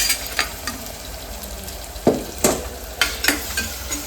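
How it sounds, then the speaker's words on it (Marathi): Tomatoes tossed with onion in a hot pan, a steady sizzle punctuated by several sharp spatula scrapes and knocks against the metal, close and fairly loud. "टाकते टॅमॅटो"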